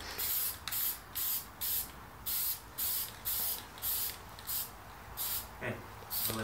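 An aerosol can sprays paint onto a drum smoker in about ten short hissing bursts of roughly half a second each, evenly spaced and close by, with a brief faint voice near the end.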